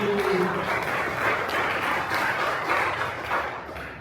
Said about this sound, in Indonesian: Marilah kita berikan tepuk tangan pada pelayan-pelayan kita, Bapak Ibu.